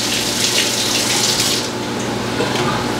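Vegetables being washed under a running kitchen tap, a steady loud gush of water flowing continuously and close throughout, with slight shifts as the produce moves under the stream.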